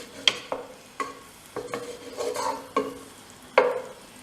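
Butter melting and sizzling in a pan over reduced heat before mussels are cooked, a soft crackle under several distinct clinks and scrapes of a utensil moving it around, close with no voices.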